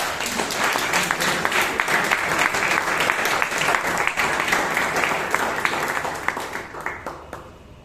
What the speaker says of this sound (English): One more round of applause to all our new members and to the membership of Bangalore Toastmasters.